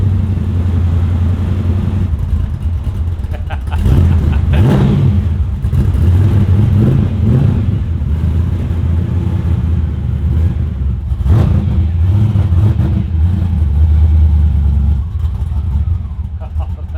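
A boosted Ford XY Falcon drift car's engine revs loudly and close in a backyard shed, rising and falling in surges over a steady rumble, with people talking faintly underneath.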